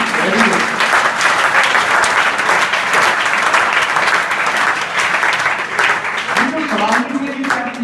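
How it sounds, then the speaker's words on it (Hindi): Students in a school classroom clap loudly for a classmate, a dense burst of applause filling the whole stretch, with a teacher's voice briefly heard near the end. "अंजलि ने जोरदार ताली बजाओ"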